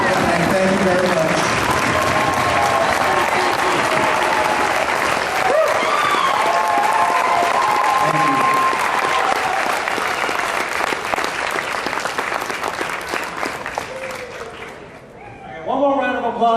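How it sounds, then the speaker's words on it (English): Sustained applause from a convention audience at the MechaCon opening ceremony, dense steady clapping filling the room for about fifteen seconds before thinning out at the end, with scattered cheers mixed in. "One more round of applause for the creators of MechaCon."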